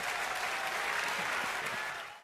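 Audience applause welcoming two party spokespeople onto the stage of a televised political debate show, a dense steady clapping that holds loud for about two seconds, then cuts off abruptly.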